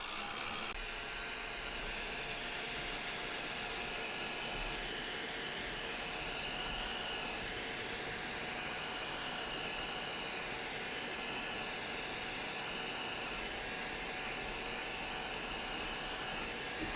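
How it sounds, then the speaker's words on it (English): A Ranger Heat It heat tool drying pigment ink, a steady loud blowing whir with a constant motor whine, unbroken for the whole stretch. "I'm going to use my Ranger Heat It tool, and I'm just going to dry this a little bit"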